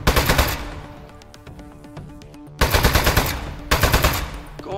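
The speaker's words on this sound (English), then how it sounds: "It is okay to shoot these appliances." Rapid automatic gunfire in the game Aperture Desk Job comes in three loud bursts of rattling shots aimed at appliances, with quieter ringing, clinking gaps between them and no talk.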